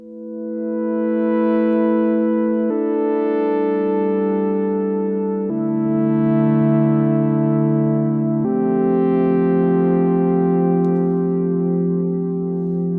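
Four sustained chords on a Vermona Perfourmer synthesizer, stacked in fifths, in slow succession, each ringing with rich stacked harmonics and a spacious, ambient wash, no voices.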